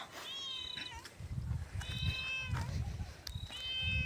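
A cat meows three times, drawn-out and nasal, over a steady background hum.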